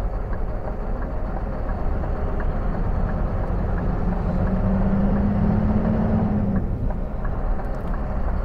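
A car sets off and drives in a convoy behind a small truck with hazard lights on, a steady low engine and road rumble from inside the cabin, with a brief humming tone rising midway.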